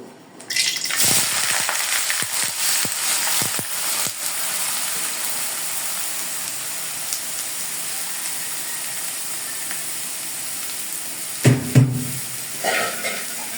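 Chopped green tomato, onion and sliced green chili sizzle together in a hot pan, a steady, close hiss of frying that runs for over ten seconds, broken near the end by a few clattering stirs.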